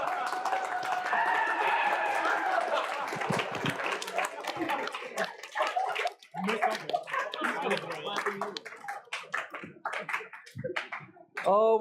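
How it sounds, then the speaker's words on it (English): Audience applause at a talk about hacking alcohol, a long stretch of clapping crowd hands, loud at first, then thinning into scattered claps with a brief lull and a final swell, voices mixed in. "Congratulations, Deviant. You got an applause."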